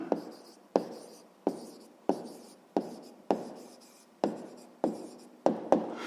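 A pen scratches across paper in a sixth-grade math exercise, about nine evenly spaced strokes, each a sharp onset fading out, close and alone without talk.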